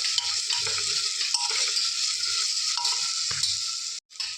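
Mutton goes into a pan of frying onion-tomato masala, giving a steady broadband sizzle throughout with low clattering bumps and stirring scrapes, then a brief drop to near silence before the frying noise resumes.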